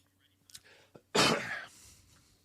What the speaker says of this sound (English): Sorry, I was coughing.